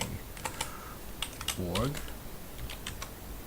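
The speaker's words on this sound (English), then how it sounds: "I will be typing in my password." Rapid, irregular keyboard typing with sharp clicking keystrokes, close by, with a brief murmur of a voice partway through.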